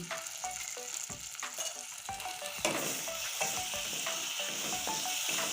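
Taro greens frying with turmeric and coriander powder in a pan, a steady bright sizzle with soft stirring scrapes, close and continuous, growing slightly louder partway through.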